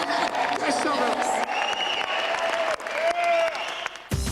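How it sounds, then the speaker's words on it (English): Crowd applause for the Miami Dolphins cheerleader tryout hopefuls at a mall, steady clapping and cheering from a large gathering, mixed with voices and loud background chatter throughout. "can we just kind of give the cheerleader to bees a big round of applause?"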